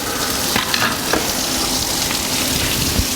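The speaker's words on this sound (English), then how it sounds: "We're just going to let the water drain on the floor." A steady, loud splashing hiss of water pouring from the engine block plugs of a 1949 Chevrolet and spattering onto a hard floor, continuous throughout with small irregular splatters.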